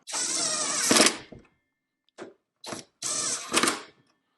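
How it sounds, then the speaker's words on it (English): A Revvstark brushless cordless impact wrench snugs lug nuts, with two loud close bursts of rapid hammering, each about a second long, and short blips of the trigger between them. "So now I'm going to take the Revvstark and I'll just snug these down."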